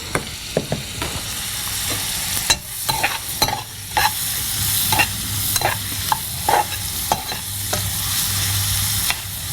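Salted onions sauté in a pan for a Chettinad chicken gravy, a continuous close sizzle broken by irregular sharp scrapes and knocks of a spatula stirring against the metal, with no talking.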